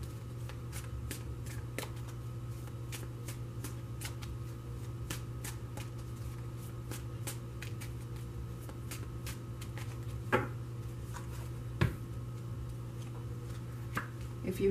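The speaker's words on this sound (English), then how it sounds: "I have pre-shuffled this deck, so I'm only going to shuffle it for a moment." Tarot card deck shuffled continuously, a steady run of crisp papery riffles and soft flicks with a few sharper taps, close and alone over a low constant hum.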